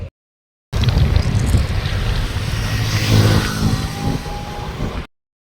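A motorbike ride with heavy wind buffeting the microphone over a low engine rumble, loud and continuous for several seconds before cutting off abruptly.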